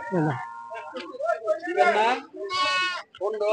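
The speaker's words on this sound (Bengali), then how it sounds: "ছাগল কিনে নিয়ে যাচ্ছেন।" At Hazratpur cow market, a goat gives a couple of loud, wavering bleats close by, mixed in with nearby talking voices.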